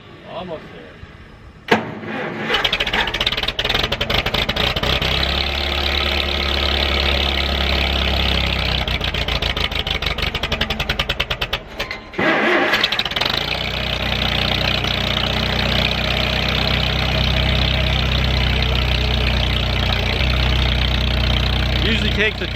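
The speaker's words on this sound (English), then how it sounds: "Usually takes a few cranks on this old tractor when it's this cold in the morning" An old tractor engine on a cold winter morning cranks over briefly, catches and settles into a loud, steady idle, with a short dip partway through before it keeps running.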